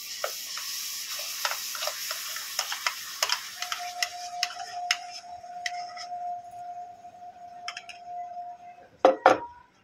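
Palm fruit pulp stirred in a wok over a gas flame, with a spoon scraping and clinking against the pan in quick uneven strokes, close and fairly quiet, then a steady faint hum and a sharp clatter near the end.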